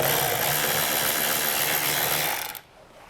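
Power tool spinning out an 8mm screw on a 2021 Subaru during trailer hitch installation: a loud, close, steady whir that runs for over two seconds, then stops abruptly.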